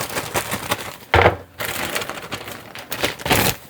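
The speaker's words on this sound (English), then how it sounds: "I'm going to put them in a little colander here." A 12-ounce bag of fresh cranberries tumbles into a small colander, giving a close, loud rattling crunch in bursts with a sharp pour near the middle and scattered clatter afterward.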